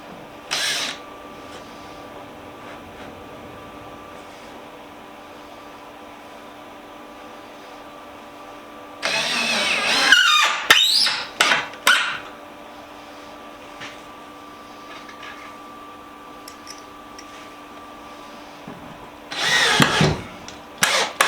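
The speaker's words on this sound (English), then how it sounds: "Let me get some holes drilled." A power drill bores holes into a budget DIY screwdriver organizer for wall mounting, heard as two short bursts of whirring and grinding under a steady background hum, with quiet gaps in between.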